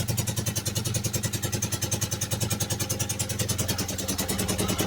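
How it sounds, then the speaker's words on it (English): A BMW R80 Paris Dakar motorcycle engine idling steadily, a loud, close, even chugging pulse with a mechanical clatter, running alone with no voices. "There you go, idling."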